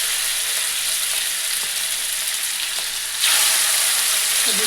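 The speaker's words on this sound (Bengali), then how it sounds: "তেলটা ভালো গরম হয়ে গেছে, এবার আমি এই মাছ দুটোকে এখানে" Katla fish pieces slide into hot white oil and sizzle, a steady frying hiss that surges louder and brighter as the fish hits the pan, continuous and close.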